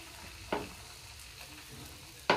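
Dosa batter sizzles on a hot pan with a steady low crackle, broken by two sharper scraping bursts near the start and end, close and without talk.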